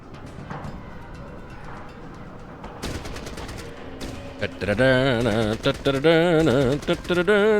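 Shotgun fire in Fallout Tactics: Brotherhood of Steel: several sharp, loud blasts fired in quick bursts, mixed with warbling tones and other combat noise.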